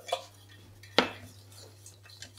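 A pan holding a sea bream stir fry set back onto a stove, one sharp metallic clank standing out from a few lighter clinks and a low steady hum, close and quiet, with no talk.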